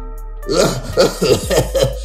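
A person eating biryani gives a series of forced, staged coughs, five or six short bursts in quick succession, close and clear.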